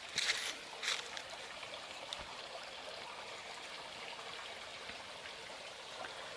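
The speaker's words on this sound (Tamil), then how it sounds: "பாருங்கள் தண்ணி எப்படி விழுகுதுன்னு பாருங்கள்" Steady rush of falling water from a small forest spring stream at a temple bathing pond, continuous and fairly soft, with a couple of brief splashy bursts near the start.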